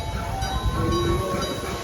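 A Big Bad Wolf roller coaster train runs a test circuit at Busch Gardens, heard as a steady distant mechanical rumble and whine with faint tonal hum, no voices.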